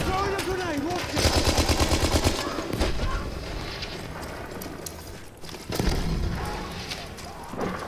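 Grenade blast and bursts of gunfire in the online shooter game Battlefield 1, loud and repeated with rapid rattling volleys and heavy booms, under a voice talking.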